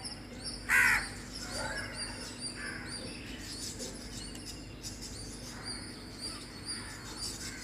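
A crow gives a single loud, nearby caw against a quiet outdoor background, followed by fainter, scattered bird calls.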